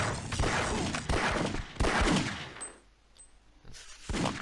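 Gunfire in the Half-Life Opposing Force video game, loud bursts of rapid shots in clusters, then a brief quieter gap before another burst.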